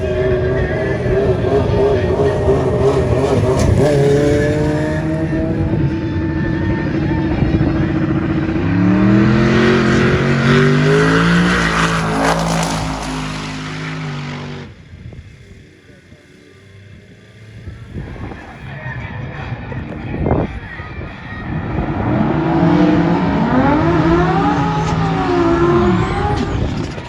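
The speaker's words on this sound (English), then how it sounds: "That's a 2JZ engine in that car." A Datsun 240Z fitted with a 2JZ engine races at a small-tire drag event, engines revving and roaring loud and near in bursts, with a short lull before the roar swells again.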